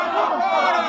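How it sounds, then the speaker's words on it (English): Bullfight crowd in a 1955 radio drama roaring in excitement, a dense wash of many voices shouting and cheering together, loud and close in a short burst. "They're cheering for the bull."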